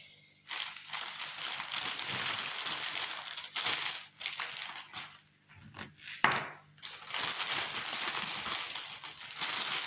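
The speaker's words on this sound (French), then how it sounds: "Je suis désolée pour le bruit que je peux occasionner des fois avec les" Close, crisp paper crinkling and rustling while unboxing diamond painting and cross-stitch kits, continuing steadily with a few brief pauses.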